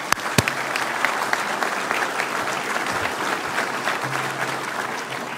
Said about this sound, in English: I'd love to recognize you for a round of applause.